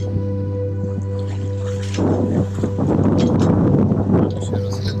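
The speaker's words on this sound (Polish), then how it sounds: "bo wiatr wieje z tyłu" Wind buffets a sailboat during a solo Atlantic crossing, a steady engine-like hum giving way to gusty rumbling and splashing as wind noise hits the microphone.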